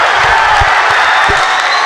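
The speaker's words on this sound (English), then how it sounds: "The crowd is going crazy." Crowd roaring at a high school varsity boys basketball game, a dense continuous wall of cheering and shouting, loud and close, with scattered low thumps beneath.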